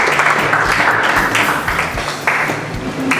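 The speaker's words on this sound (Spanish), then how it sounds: "Un aplauso para él, por favor, gracias, Jorge." Audience applause at a Rotary Club social service event in Miraflores, Piura, a steady dense wash of clapping that holds throughout the short stretch, fairly loud, with some faint voices underneath.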